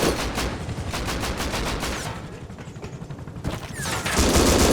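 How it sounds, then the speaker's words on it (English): An M249 machine gun in the video game Rust fires fast automatic bursts at a helicopter: a rapid rattling stream of loud shots, a short pause with mechanical clicks, then heavy firing again. "I attach a scope to my M249, which I'm hoping will allow me to more accurately hit the rear rotor"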